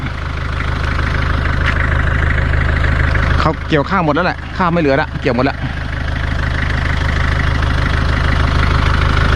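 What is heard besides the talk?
pickup truck engine idling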